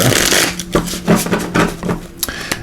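Tarot cards are shuffled rapidly up close, with papery riffling bursts and soft slaps as the deck is cut and squared again.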